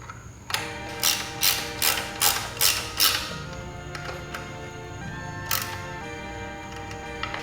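Bolts and lock nuts being tightened on CNC Racing rearsets of a Ducati 959 Panigale: a close run of about seven rhythmic ratchet clicks, then a few more scattered clicks with soft mechanical rattling.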